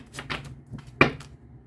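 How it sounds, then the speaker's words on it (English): A deck of tarot cards being shuffled, with a few brief papery riffles and clacks and one sharper snap near the end, close and fairly quiet, with no talking. "One more shuffle, Taurus."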